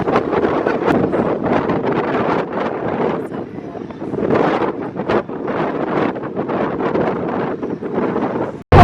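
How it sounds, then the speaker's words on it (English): Strong wind buffets the microphone high on a deck above the San Antonio River Walk, loud gusty rumbles rising and falling in waves for several seconds with a brief drop at the end. "it is so windy up here, but it feels so good"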